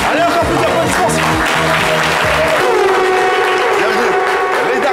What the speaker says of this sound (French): Allez, encore plus d'applaudissements.